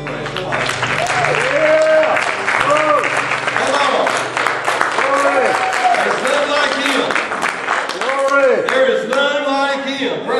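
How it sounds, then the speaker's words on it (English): Church congregation clapping hands in praise, steady rhythmic applause mixed with a sung or shouted voice rising and falling over it. "Give the Lord a hand clap of praise."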